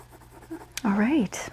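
A pencil colors on paper in a soft, scratchy rasp of short strokes, mostly quiet and partly under a person speaking.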